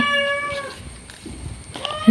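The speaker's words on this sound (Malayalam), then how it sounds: "പൂച്ച കടന്ന് മീൻ കൊടുക്കാതിട്ട് കണ്ട ബഹളുണ്ടായിക്കൊണ്ടിരിക്കുന്നത്" A cat meows in drawn-out, tonal cries for fish at the start and again near the end, fairly close, with quieter household noise in between.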